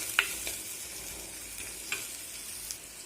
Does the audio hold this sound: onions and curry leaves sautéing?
yes